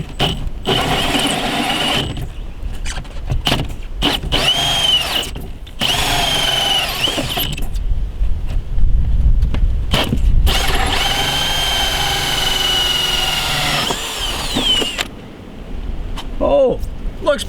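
A power drill bores through half-inch plywood behind styrofoam while a water tank fill cap is being installed: loud, close whining bursts that start and stop repeatedly, rising and bogging under load, with a person talking in between.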